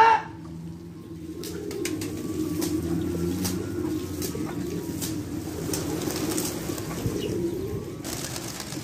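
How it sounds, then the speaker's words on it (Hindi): Pigeons coo steadily indoors in a rumbling low chorus, with scattered light clicks and brief flutters over nearly nine seconds. "कबूतर था अंदर।"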